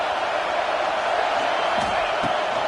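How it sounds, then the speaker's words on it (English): A college football stadium crowd roars in a steady, dense wash of cheering and noise at a big game, loud and continuous throughout with no clear individual voices. "This crowd rising up"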